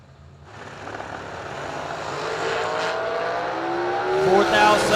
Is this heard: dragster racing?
yes